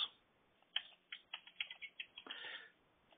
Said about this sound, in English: So type in Adams, ADAMS.